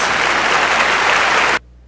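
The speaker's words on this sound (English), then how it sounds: "let's give a round of applause" Loud applause from a crowd, dense and continuous clapping that cuts off abruptly at the end.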